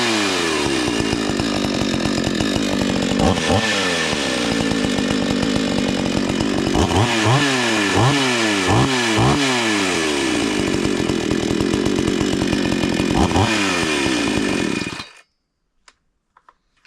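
A chainsaw running after a bar stud repair: a steady loud engine drone with repeated revving swells and drops, close by, cutting off abruptly near the end and leaving near silence.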